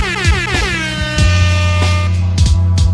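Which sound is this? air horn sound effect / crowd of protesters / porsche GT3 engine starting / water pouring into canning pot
air horn sound effect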